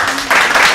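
A short burst of applause on a cruise ship to Bimini, Bahamas, a dense wash of clapping swelling louder halfway through and lasting under a second.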